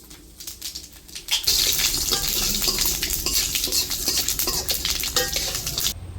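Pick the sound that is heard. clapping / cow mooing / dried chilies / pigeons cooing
dried chilies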